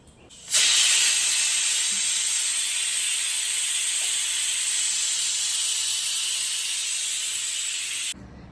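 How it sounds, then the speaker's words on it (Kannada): A pressure cooker whistle lets out a long, steady hiss of escaping steam, starting abruptly and holding loud and even for several seconds before cutting off. "ಮೂರು ವಿಸಲ್ ಆಯಿತು ಇನ್ನೊಂದು ವಿಸಲ್ ಬಂದರೆ ಆಫ್ ಮಾಡೋಣ"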